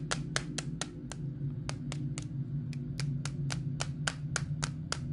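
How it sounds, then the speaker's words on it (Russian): Sharp hand claps repeat at an uneven, fairly brisk pace, about fifteen in a row, loud and close, over a steady low hum from a horror game playing in the background. "Хлопки!"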